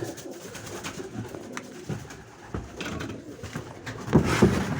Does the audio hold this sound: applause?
no